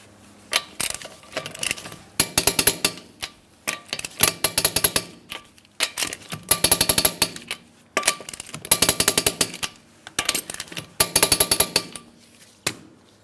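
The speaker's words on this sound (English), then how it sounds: "Let's go ahead and torque those lug nuts to that 100 foot-pounds as I mentioned." Torque wrench ratchets in bursts of rapid clicks while tightening lug nuts on a Chrysler Town & Country wheel, several separate clicking runs with short pauses between, close and crisp.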